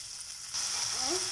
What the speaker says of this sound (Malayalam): ഇതിലേക്ക് അരിഞ്ഞു വെച്ചിരിക്കുന്ന 3 സവാള ചേർക്കാം.